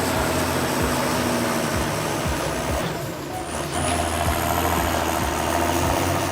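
A John Deere 6930 tractor with a turbocharged six-cylinder PowerTech Plus engine runs steadily and loud and close, a continuous low diesel drone with a brief dip midway, on a muddy field.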